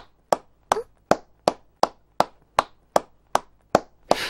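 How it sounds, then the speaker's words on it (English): Eleven sharp, evenly spaced claps ring out one after another in a Code Geass anime scene, crisp and dry with brief decays, a single pair of hands clapping steadily and alone. "Dude, stop the f***ing needless clapping."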